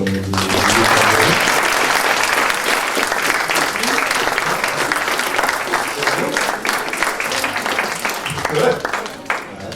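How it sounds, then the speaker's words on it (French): Sustained, loud audience applause closing a panel discussion on European cybersecurity for citizens, dense clapping from a large crowd with a brief swell near the end. "Moi, je vous propose d'applaudir."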